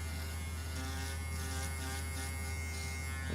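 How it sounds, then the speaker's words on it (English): Electric clippers shaving a dog's coat, a constant close buzzing hum with a slight rise and fall as the blades move through the fur, no voices. "take the clipper and take everything off from the front"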